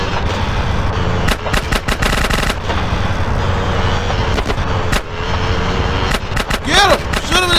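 Rapid gunfire in GTA San Andreas, sharp cracks and bursts at irregular intervals over a constant rumbling engine drone, with a short siren-like wail near the end.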